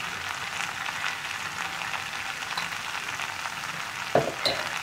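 Papaya and potato stir-fry sizzling in a pan as it is stirred, a steady close hiss of frying with a couple of sharper scrapes near the end, no voices.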